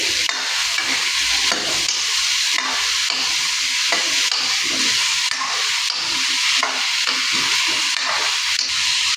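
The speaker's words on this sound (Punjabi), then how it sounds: "ਹੁਣ ਆਪਾਂ ਇਹ ਮਟੀਰੀਅਲ ਸਾਰਾ ਜਾਨੀ ਸਬਜ਼ੀ ਦਾ ਆਪਾਂ ਇਹਨੂੰ 7 ਤੋਂ 8 ਮਿੰਟ ਤੱਕ ਫਰਾਈ ਕਰਾਂਗੇ" Potato and spinach bhurji stir-fries in a pan with a steady, loud sizzle and hiss, broken by frequent scraping and stirring strokes in an uneven rhythm throughout, with no voices.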